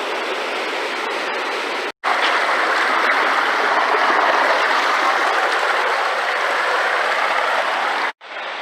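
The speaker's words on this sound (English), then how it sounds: "And there are falls right here." Steady, dense rushing water roars continuously at close range from a waterfall in a gorge near Kootenay Lake, with a brief drop-out near the start and end.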